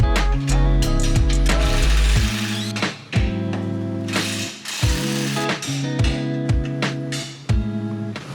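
A hand ratchet clicks repeatedly while loosening 17 mm and 14 mm nuts and bolts from a Subaru WRX lower control arm, with bursts of close, loud metallic ratcheting separated by short pauses.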